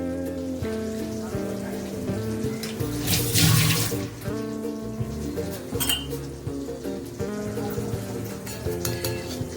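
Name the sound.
paneer lifted out of warm water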